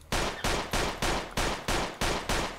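Makarov pistol fired in Fallout New Vegas, eight loud, evenly spaced shots in quick succession, each a sharp crack with a short decaying tail, no voices.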